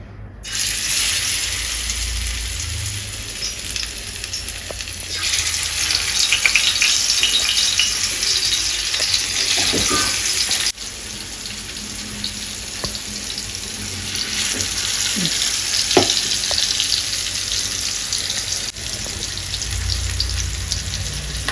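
Fish sizzles in hot oil in a pan with a loud, steady hiss that swells and settles, joined by a few faint clicks of a utensil, and no speech.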